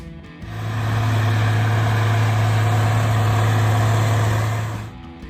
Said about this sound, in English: As dusk falls, the small red engine still hums